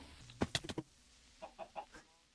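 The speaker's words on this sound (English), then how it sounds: "I found a chicken." Minecraft chicken clucking: a quick cluster of four sharp clucks, then a softer run of three more, faint and alone against a quiet background.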